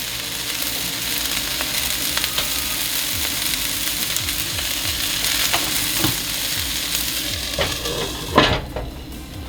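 Onions for a vegan smash burger fry in a pan with a steady, close sizzle, broken by occasional stirring scrapes and a louder clatter near the end; no one speaks.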